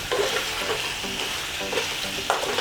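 Chicken pieces with large chunks of potato and carrot sizzle and hiss in a pan for a stew, with a steady frying crackle and intermittent scraping stirs, fairly loud and close with no talking.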